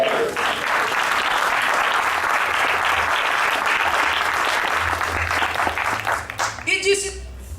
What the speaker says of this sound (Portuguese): dá um glória a Deus e aplauda o Senhor